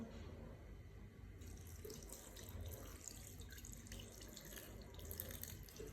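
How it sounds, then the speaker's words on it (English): Running water is poured in a steady stream into a second batch of re-pounded food in a pan, a continuous close splashing rush that lasts throughout with no speech. "So I'm going to add a good amount of water"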